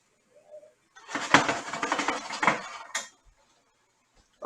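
A pan of burger wraps with green pepper frying on a stovetop is shaken, producing a rattling, sizzling burst of about two seconds between quiet gaps.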